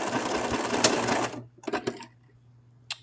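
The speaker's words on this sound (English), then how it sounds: "Let's do a little bit of back stitching." A sewing machine back-stitches fabric for a small plush toy, running in a fast steady burst for over a second, then a few short stop-start stitches, close and moderately loud.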